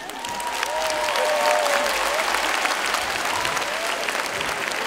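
Dense, sustained applause from a live comedy-show audience in Kitengela, loud and steady throughout, with scattered whoops and whistles rising over the clapping.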